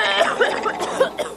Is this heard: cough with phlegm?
yes